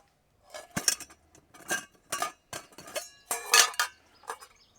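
Pieces of a StanSport camping cook kit clink and clatter together up close while backpacking in a forest, in a string of sharp, irregular metallic knocks separated by brief pauses.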